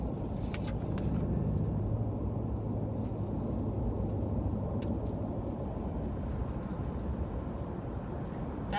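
Inside a moving car on a road trip, a steady low engine and road rumble fills the cabin continuously, with faint occasional clicks and no talking.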